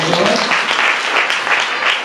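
A church congregation claps together at a fasting prayer meeting, a dense, steady wash of many hands lasting a couple of seconds, close and loud.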